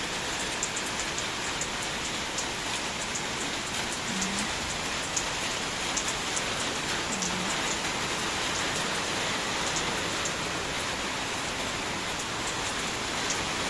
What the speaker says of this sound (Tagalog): Buti humihina yung ulan.